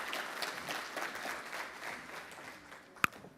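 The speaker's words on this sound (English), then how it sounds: "Give her a round of applause." An audience at a conference applauds in a steady, dense patter of clapping, moderately distant, with one sharp knock near the end.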